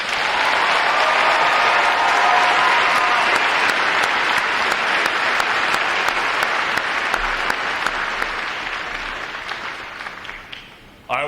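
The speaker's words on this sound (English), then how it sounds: "Please give them another round of applause." A large crowd applauds Navy recruit graduates at a pass-in-review graduation ceremony, with sustained loud clapping that slowly fades toward the end.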